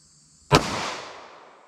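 A single .38 Special round fired from a short 2-inch barrel with Sig Sauer V-Crown ammunition: one sharp, loud crack after brief quiet, followed by a long, fading echoing tail.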